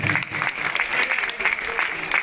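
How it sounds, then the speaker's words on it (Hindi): An audience at a Ram birth festival celebration in Biaora claps loudly for the organising committee, a dense and continuous burst of applause that lasts throughout. "उनके लिए जरा जोर से तालियां बजे"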